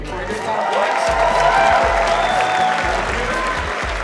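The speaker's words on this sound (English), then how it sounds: "Please clap and scream right now one more time for me before I hear the applause." Loud crowd clapping and cheering at an awards event for a best pre-owned vehicle dealership, sustained applause with shouts and whoops rising through the middle and holding steady.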